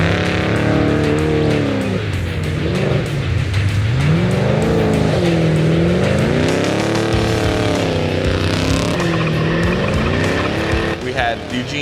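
Off-road race truck roaring at full throttle in the Best in the Desert Vegas to Reno race, engine pitch rising and falling through gear changes, loud and continuous with rattling over rough terrain and voices talking over it.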